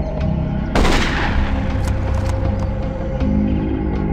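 A single loud sniper rifle shot in Marine Sharpshooter II: Jungle Warfare, a sharp crack with a rumbling tail over a steady background hum, no talk.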